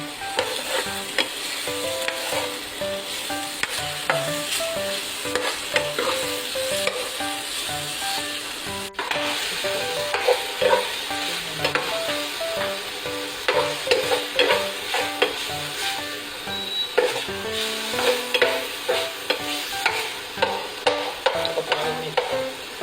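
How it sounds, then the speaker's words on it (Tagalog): Pork and vegetables sautéing in a pan, a steady loud sizzle with repeated scraping strokes of a spatula stirring throughout, close and continuous with no talk. "So, ginigisa natin ang pig. Masarap ang gulay pag may pig. Haluin natin."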